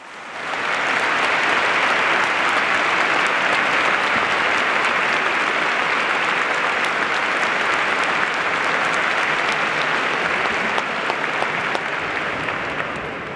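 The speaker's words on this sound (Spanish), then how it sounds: "para quien nuevamente ofrecemos un caluroso aplauso" Audience applause for a military performer, a first corporal, at a concert by an army division band, sustained and dense for over twelve seconds, loud and even before tapering slightly at the end.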